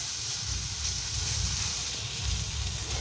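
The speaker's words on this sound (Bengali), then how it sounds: "হালকা তেলে ভেজে নিচ্ছি।" Flat beans coated with salt and turmeric fry in a little oil, giving a steady close hiss and sizzle with soft bubbling throughout, no voices.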